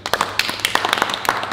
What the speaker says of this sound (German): ein Applaus für Daniel Busch